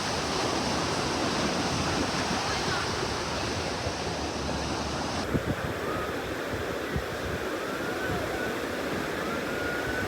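Broad, steady wash of sea waves at a beach in Bauan, Batangas at low tide, constant and fairly distant, with light wind buffeting and a few faint knocks.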